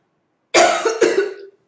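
Two close, loud coughs from a woman, the second following about half a second after the first, each a sharp burst that trails off quickly, alone with no talk around them.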